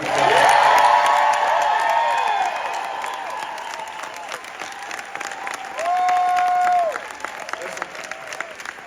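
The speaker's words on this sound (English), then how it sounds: "Can we give our employees the biggest round of applause?" Audience applause and cheering for employees at a company launch event, loud and sustained, with whoops and tonal whistles, slowly thinning toward the end.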